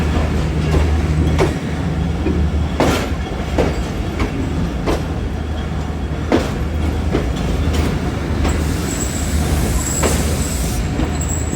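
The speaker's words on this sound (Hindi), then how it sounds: "काफ़ी रश है जी लाला मूसा जंक्शन पे।" Train at the busy Lala Musa Junction railway station in Pakistan: steady rumble of carriages with repeated clanks and knocks, a brief high squeal near the end, no talk.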